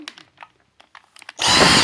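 A Dyson V6 Animal cordless vacuum cleaner switches to max power, a loud, close whooshing roar that kicks in abruptly after some quiet knocks and handling noises.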